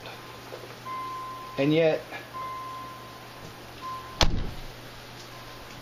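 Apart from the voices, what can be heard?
car headlight warning beeping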